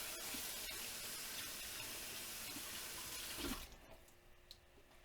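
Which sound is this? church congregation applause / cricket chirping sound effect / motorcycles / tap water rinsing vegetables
tap water rinsing vegetables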